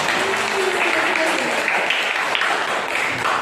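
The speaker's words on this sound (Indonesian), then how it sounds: "beri tepuk tangan dong" Applause from an audience at a teaching session, a dense steady patter of clapping filling the whole stretch, with a voice faintly audible beneath.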